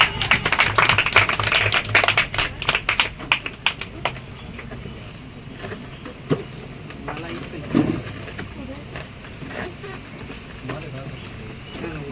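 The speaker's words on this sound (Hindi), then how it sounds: "तो उनकी जोरदार तालियां।" Hearty applause at a Teacher's Day program in a Gaya study centre: a burst of dense hand clapping for the first few seconds, then it thins to scattered claps as voices take over.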